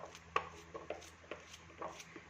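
A kitchen knife cuts through zucchini for a baked zucchini tray dish, giving a quiet run of light, irregular chopping taps on a board, close by.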